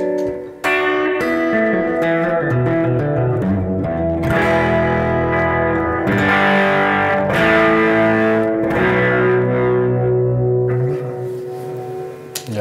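Electric guitar through a growly distortion pedal with gain and level controls, playing sustained chords and riffs loud and alone, thick and saturated with a ringing tail at the end.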